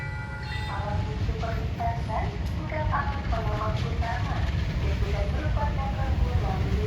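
Bengawan economy train rolling by at a station, a continuous rumble of wheels and cars with intermittent clanks and squeals, moderately distant, with people talking over it.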